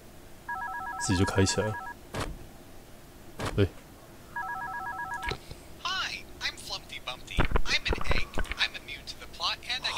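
Telephone ringing in the horror game One Night at Flumpty's, two bursts of an electronic ring with a pause between them, followed by someone talking over clicks and other game sounds.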